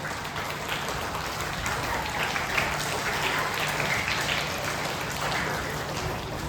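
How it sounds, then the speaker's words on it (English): An audience applauds debaters at a school elocution debate, a dense, even wash of many hands clapping continuously at steady loudness, sounding like rain, with no clear talking. "So I request the audience to take them a big round of applause."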